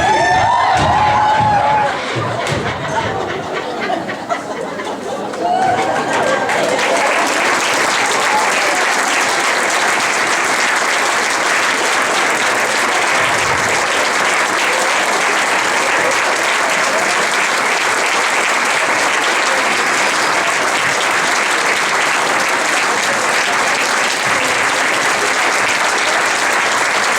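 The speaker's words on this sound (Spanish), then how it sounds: "muchas gracias por sus aplausos" An audience applauds at the close of an amateur theatre play, a comedy about a dentist staged for an anniversary at a regional cultural centre: dense, loud, sustained clapping filling the room, steady throughout after a brief rougher opening.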